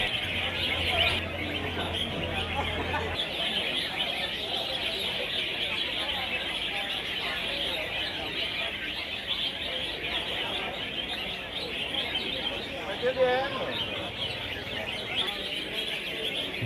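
Many competition songbirds sing and chirp at once at a bird-singing contest in a dense, continuous chorus, with a brief low hum at the start and no talking.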